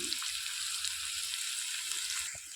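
Onions sizzle steadily in hot oil with turmeric, garlic, dried red chillies and curry leaves for a village-style cucumber chutney, a continuous broadband frying hiss close by and unbroken.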